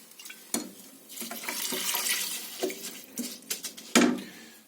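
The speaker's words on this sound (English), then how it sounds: "what I'm going to do now is just cover that in water" Water runs and splashes into a metal pot to cover ingredients for mujaddara, with clinks and knocks of the vessel, steady pouring with occasional louder clanks.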